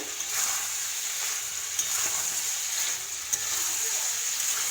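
Mutton curry (khasi mangsho) sautés in an uncovered pan with a steady, close hiss of sizzling oil. A few faint stirring scrapes come through it, and no one speaks.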